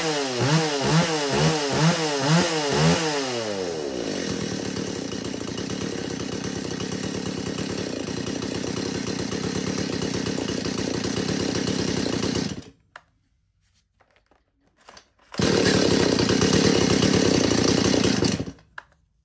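A Japanese-import chainsaw starts with a pulsing rev, then runs at a loud, steady high pitch for about twelve seconds. It cuts out to near silence, then roars again at full throttle for a few seconds before stopping.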